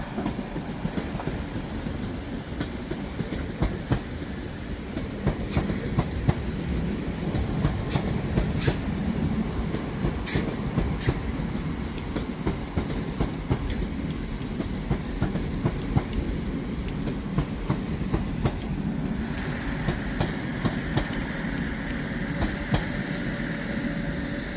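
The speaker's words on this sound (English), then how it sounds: "As here we have 35125 off to Birmingham New Street from London Liverpool Street." Passenger train 35125 from London Liverpool Street bound for Birmingham New Street rumbles steadily past at Crewe on the West Coast Main Line, with rhythmic wheel clatter, sharp metallic clicks and a rising tonal whine near the end.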